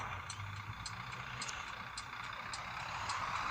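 Truck engine in a driving video game, a steady low drone with short periodic high-pitched beeps or hisses that sound like air brake releases or reversing tones, with no talk over it.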